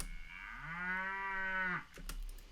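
A single long cow moo, sampled for music, swells in steadily and then cuts off, close and clear on its own, followed by a few faint clicks.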